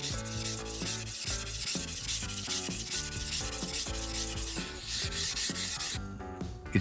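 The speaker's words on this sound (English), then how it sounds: "Before that, I sharpen the blade." A hand plane blade is rubbed on a whetstone in repeated rhythmic strokes, a steady scraping grind that stops briefly partway before resuming, close up with no voices.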